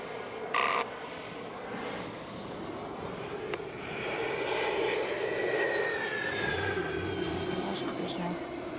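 An E-flite 90mm Viper RC jet with an electric ducted fan motor whines in the air, its whir rising and sweeping as it climbs outdoors, with brief crow-like calls and faint background noise.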